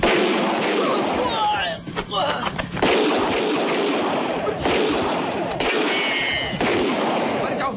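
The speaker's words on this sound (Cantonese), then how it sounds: "好似槍聲嚟嘅喎" Gunfire sound effect in a Cantonese comedy film about gambling, loud bursts of rapid shots and sharp cracks mixed with shouting voices and tense music.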